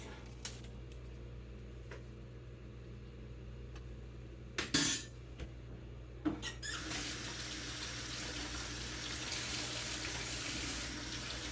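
Spring onions rinsed under a running kitchen tap, with a few clinks and knocks before a steady, close rush of water that continues to the end.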